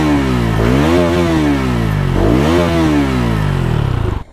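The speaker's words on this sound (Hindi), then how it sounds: "तो सबसे पहले भाई मैं इसका आपको एग्जॉस्ट साउंड सुना देता हूँ भाई।" Bajaj Pulsar NS 200 motorcycle exhaust revved hard twice, each rev climbing sharply then falling back, loud and close with a rough, throaty idle between throttle blips and no talking.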